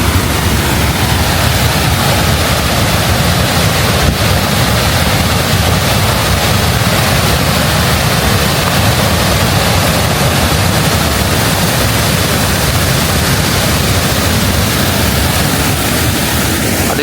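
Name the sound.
waterfall during floods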